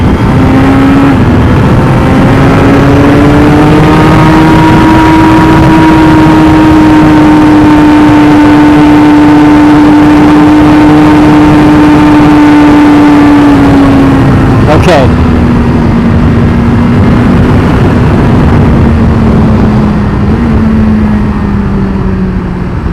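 A motorcycle engine holds steady revs while riding, its tone rising and falling through the gears, with a sharp brief rev spike midway and wind noise throughout.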